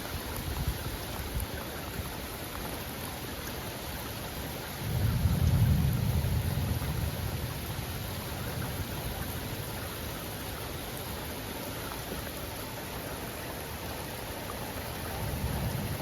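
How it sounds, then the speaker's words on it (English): Severe August thunderstorm with intense lightning: constant heavy rain roar, broken by a deep rolling thunder rumble that swells partway through and fades, with another low rumble starting at the very end. "Absolutely insane storm right now."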